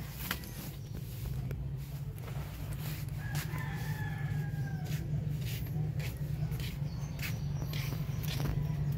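A chicken cackles outdoors, its short squawking calls rising over a constant low hum with occasional faint noises, the hen moderately distant and clearly heard.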